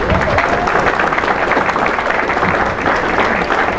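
Sustained audience applause at a Republican gubernatorial candidate event in Guthrie, Oklahoma, steady and dense clapping from a sizeable crowd welcoming a speaker, continuing loudly throughout.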